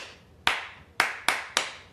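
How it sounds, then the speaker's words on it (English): A single person claps a rhythm with bare hands: four crisp, close claps, one alone and then three in quicker succession, heard without any other sound. "one person just claps a rhythm"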